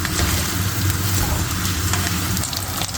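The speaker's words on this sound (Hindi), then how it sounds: "ये देखें जी बैंगन फ्राई हो रहे हैं।" Baingan (eggplant) slices frying in a pan over a raised flame, giving a steady, dense sizzle and crackle that holds evenly at close range for the whole stretch, with no voices.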